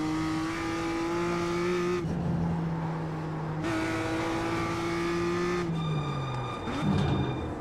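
A race car engine in iRacing screams at a high pitch as it climbs through the revs, drops on upshifts and climbs again, then winds down sharply as the driver lifts, loud and steady from start to finish.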